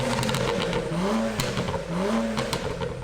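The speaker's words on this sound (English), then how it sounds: "There's like a slider in the tune which allows you to customize how much you want the car to pop and crackle" A tuned BMW 335i revving in short blips, with sharp exhaust pops and crackles snapping between the rising and falling engine notes, loud and close.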